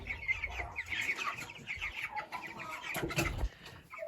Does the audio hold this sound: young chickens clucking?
yes